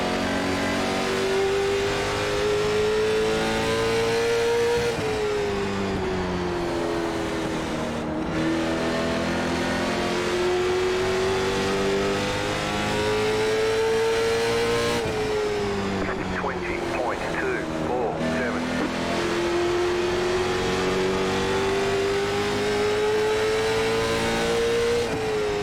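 Late model stock race cars roar steadily at Stafford, with a droning engine note that climbs and falls as the cars cycle through the laps. A commentator's voice sits under the engines.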